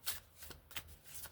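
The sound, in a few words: shuffling Celtic Spirit oracle card deck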